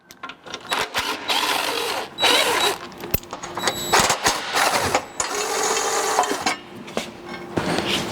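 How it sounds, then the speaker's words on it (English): Bolts being removed from the trash knives on a John Deere 600 cotton harvester, a series of rapid ratcheting and power-tool rattles in short bursts separated by brief pauses, close and fairly loud, with no speech. "There's 4 bolts on each side. We're just going to take them off and set them to the side."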